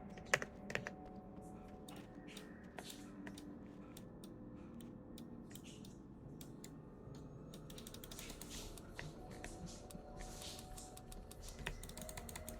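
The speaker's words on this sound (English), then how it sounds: "the middle mouse button seems to be making some sort of noise" Mouse buttons clicking repeatedly on a computer, the middle button adding a faint mechanical ratcheting noise, heard close up over steady background game sound with scattered sharp clicks and no talking.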